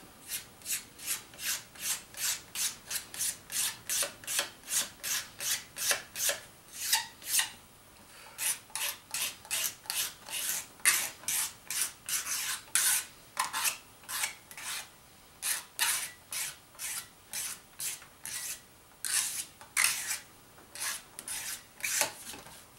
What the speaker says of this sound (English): I'm working at getting the sandpaper marks off